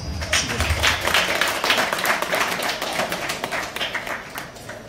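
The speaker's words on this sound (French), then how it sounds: "Un applaudissement pour ça." Audience of students at a conference applauding together, a dense sustained patter of clapping that runs steadily throughout and fades slightly toward the end.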